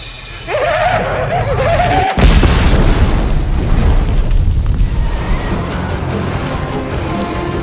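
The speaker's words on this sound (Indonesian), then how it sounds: "sehingga membuat para Wright mati akibat ledakan granat" A sudden, powerful grenade blast erupts after a brief lead-in, followed by a long rumbling roar and scattered debris.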